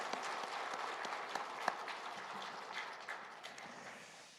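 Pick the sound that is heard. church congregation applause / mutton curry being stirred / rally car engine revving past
church congregation applause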